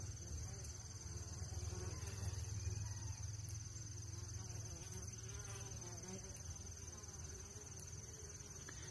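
Honeybees at an outdoor hive during feeding make a steady, faint buzzing hum that runs unbroken throughout, with no speech heard over it.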